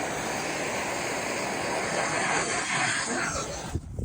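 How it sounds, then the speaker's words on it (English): A torch roars with a steady, broad hiss as it preheats metal before welding, close and continuous, then drops off abruptly near the end. "we're gonna take this torch and preheat"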